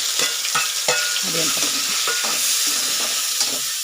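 Chopped onions and green chillies sautéing in oil with asafoetida for a cauliflower-potato sabzi: a continuous close sizzle with repeated sharp spatula scrapes against the pan.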